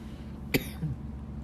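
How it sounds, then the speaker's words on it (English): A single short cough, fairly faint, followed by a small throat sound against a quiet background hum. "I've been coughing a lot in the last hour or so"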